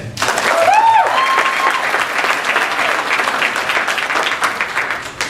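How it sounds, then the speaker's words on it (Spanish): Loud, sustained applause from a crowd, steady clapping filling the whole stretch, with a brief whistle near the start. "I think they deserve a huge round of applause."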